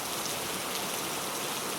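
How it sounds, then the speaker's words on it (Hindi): Steady rain falls in a cartoon jungle scene, a continuous soft hiss of many drops on surfaces, even and unbroken throughout with no speech. "अगर बारिश ना रुकी"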